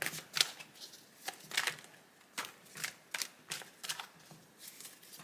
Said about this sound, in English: let me give it a couple shuffles.